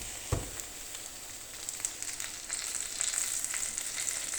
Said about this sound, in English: just let it cook for a while. Okay, right now I'll add the mushrooms.